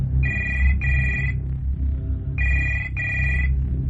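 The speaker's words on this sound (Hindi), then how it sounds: "यहां पर हर रात रूम नंबर 113 से फोन आता है" A telephone rings in two pairs of bright electronic trills over a low background hum, with a short gap between the pairs.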